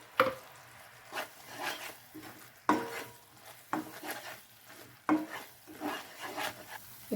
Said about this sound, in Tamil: தேங்காய் நல்லா வதக்கிக்கலாங்க.